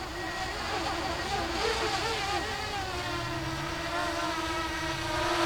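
A Parrot Anafi drone descends toward a landing pad outdoors, its rotors a steady, fairly loud buzzing whine with shifting pitch as it slows and corrects its position.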